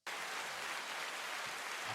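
A dense, steady burst of clapping, many hands together at an even level for about two seconds, with no talk over it.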